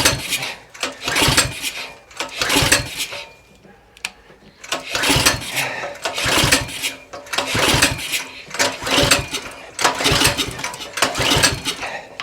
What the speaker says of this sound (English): We'll try a few more pulls with the choke on.